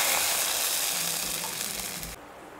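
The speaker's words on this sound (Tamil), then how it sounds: "தாளித்ததை இதில் கொட்டிடுங்க." Hot tempering with asafoetida and curry leaves is poured into a pan of tomato thokku, giving a loud, close sizzle and crackle that fades quickly to a quieter hiss.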